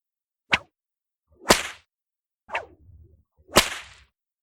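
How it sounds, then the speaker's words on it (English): Four whip cracks ring out at roughly one-second intervals in a castle courtyard, sharp and loud, with a faint rumble between them that suggests heavy wheels rolling. "I hear in the courtyard the rolling of heavy wheels and cracking of whips"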